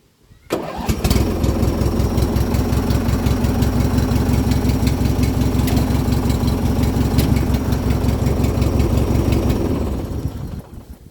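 A lawn and garden tractor engine starts and settles into a steady, loud, close idle with a rapid chugging pulse, then begins to wind down near the end.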